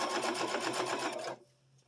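A sewing machine stitches seam binding down onto a towel in one brief close burst of rapid stitching that stops abruptly.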